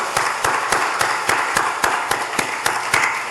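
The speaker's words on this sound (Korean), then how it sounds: "뜨겁게 박수 한번 해주시면 좋겠습니다." A church congregation claps in unison, sharp regular beats at a steady rhythm, about three per second, loud and close with a faint crowd wash between claps.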